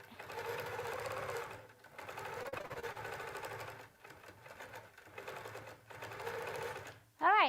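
Q'nique 19 sewing machine stitching in close, steady bursts separated by short pauses, its motor whirring under a person talking throughout, with a brief sharp tone at the very end.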